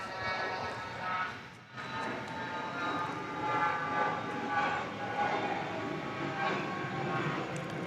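Aircraft engines at Dallas Love Field Airport give a broad steady roar with tonal whine, a sustained loud drone that dips briefly before building again, with faint voices underneath.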